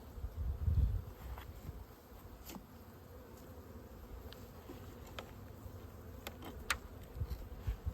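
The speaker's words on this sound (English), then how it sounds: "there's a good number of bees there you can see on the top" Honeybees buzz softly inside a hive in winter, a faint steady drone near the surface with brief rustles and a low bump early on.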